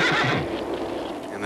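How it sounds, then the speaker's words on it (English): A horse whinnies loudly and close in an audio-animatronic show at Disney's American Adventure attraction, a shrill wavering neigh that trails off, with a faint clop of hooves. "maybe George Washington's horse isn't too happy, so he's gonna make a noise."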